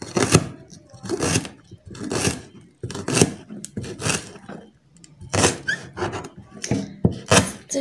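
Green garlic chopped finely with a knife on a board, a series of irregular close thunks spaced roughly half a second apart, with light handling noise between strokes.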